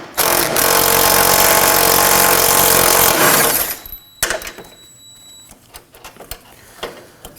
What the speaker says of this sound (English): I'm going to use my socket, small extension, and my impact gun. I'm going to loosen and remove these.